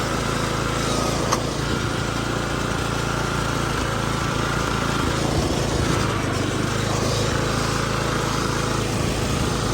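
Engine of a custom-built John Deere racing lawn mower running, a loud, steady, close drone with a constant low rumble that holds throughout without a break.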